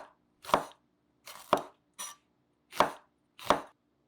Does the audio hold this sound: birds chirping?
no